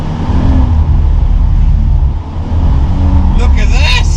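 A car drifting with a clutch kick and handbrake pull roars close by with a steady engine drone, dipping briefly before surging again as excited voices shout over it near the end.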